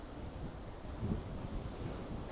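Pacific Ocean surf washing against a natural stone arch cut by erosion, a steady broad roar of waves with some wind buffeting the microphone, continuous and fairly soft throughout.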